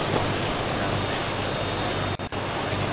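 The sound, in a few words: helicopter in the video game ArmA 2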